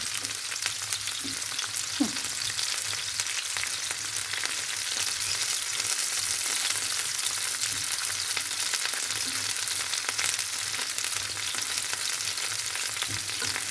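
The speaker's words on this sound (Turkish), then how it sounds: "Yağımız kızarmış. Şöyle biberlerimizi düzgün yerleştireyim ve çabuk kızarsın istiyorum." Peppers fry in hot oil with a continuous, close sizzling hiss and dense crackle, with a brief clink early on.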